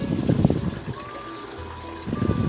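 Water from a pump running through a hydroponic grow system, a gurgling trickle and pour that eases into a thin steady flow and then splashes up again near the end.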